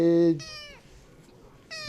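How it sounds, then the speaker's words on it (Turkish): A kitten revived by mouth-to-mouth after being pulled from water gives two short, thin meows, close and clear, separated by a quiet pause. "Suni teneffüs yaptıktan sonra kediden miyav sesi gelmeye başladı bu yavrumuzdan"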